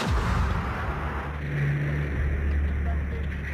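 Aircraft roar and rumble during a rocket attack on La Moneda palace in Chile, a loud, continuous low-heavy din with rolling booms under a narrator's voice.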